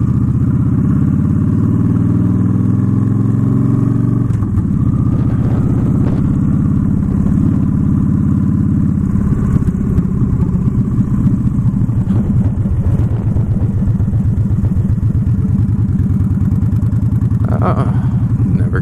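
A motorcycle engine running close by for the whole stretch, a loud, steady rumbling idle with rough, pulsing texture, its pitch shifting slightly partway through, with no talk over it.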